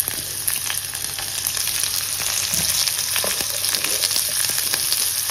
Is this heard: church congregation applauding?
no